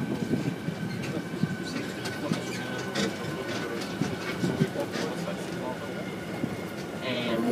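A tram at Johnson Space Center rolls along and slows toward a stop, with a steady rumbling ride, rattling clicks and a brief hiss near the end, all under continuous background chatter.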